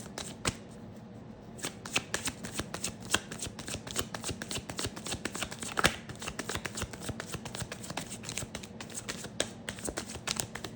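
Playing cards being shuffled repeatedly, a continuous dense riffle of crisp flutters and snaps, close up with no talking.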